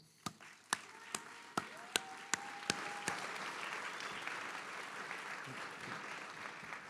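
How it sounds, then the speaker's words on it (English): Audience applause for child rock musicians at a city address, opening with a few sharp, separate claps that swell into steady, moderately distant clapping that lasts to the end. "one more round of applause for the kids from Rock Music"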